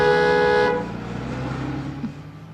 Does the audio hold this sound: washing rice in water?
no